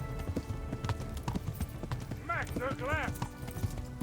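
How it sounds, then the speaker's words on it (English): Horse hooves gallop in the medieval video game Kingdom Come Deliverance, a rapid clip-clop rhythm with a short whinny partway through, heard close and steady under spoken voices. "Faster, horse, faster!"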